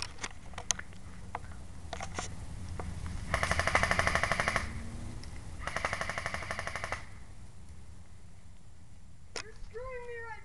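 Airsoft guns fire in two sustained automatic bursts, a rapid rattling of shots in a field game, with scattered single pops before and a high whistle-like squeal near the end, over low outdoor rumble.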